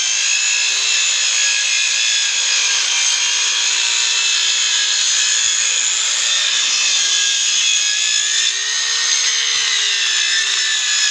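Wood being sawn, likely by a power tool, with a steady loud grinding noise that continues without a break, plus a faint wavering whine underneath. No one speaks.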